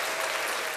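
Brief burst of dense applause, a steady even wash of many hands clapping with no pauses, lasting under a second.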